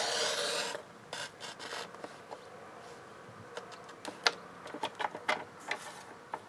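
Scissors cut through paper for a handmade gift pouch, a brief rasping rush followed by quiet, scattered snips and crisp rubs, close and faint with no talk.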